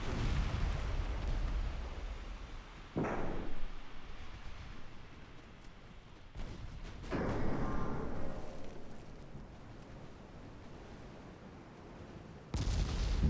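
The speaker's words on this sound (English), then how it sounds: "More torpedo hits being scored." Torpedoes striking warships in the naval battle game Ultimate Admiral Dreadnoughts: deep booming blasts with sharp bursts at a few moments over a continuous low rumble of battle, loud and dense, no talking.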